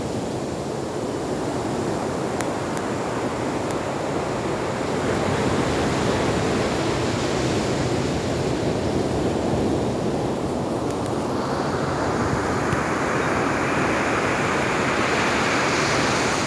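Ocean surf at Paria Bay, Trinidad, on a leatherback turtle nesting beach: a continuous, loud, close rushing roar of breaking waves that swells slightly without pause, with no voices.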